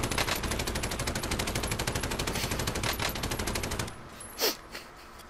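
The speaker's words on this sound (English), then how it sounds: "I can't hit 1 out of 50 machine gun shots" Rapid, sustained machine gun fire in a video game shooter, steady loud bursts for about four seconds before cutting off, followed by a quieter pause with a brief whistling sweep.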